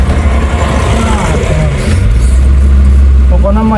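An old Suzuki Carry pickup engine rumbles loudly up close as the truck moves off in first gear, low revs rising steadily, with someone talking over it.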